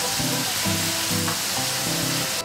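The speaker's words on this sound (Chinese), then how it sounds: "炸的时候轻轻把刨一下，有些土豆有可能有粘连" Potatoes deep-frying in hot oil for spicy Sichuan-style crispy potatoes, a loud, dense, continuous sizzle up close, with a few rhythmic scraping sounds as the pieces are gently stirred apart.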